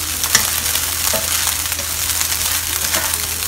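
Spring onion fries in a wok for prawn egg fried rice, giving a loud continuous close sizzle with brisk stirring scrapes and an occasional spatula clink, no talk.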